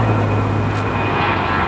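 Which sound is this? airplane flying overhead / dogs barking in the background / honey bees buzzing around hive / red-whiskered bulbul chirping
airplane flying overhead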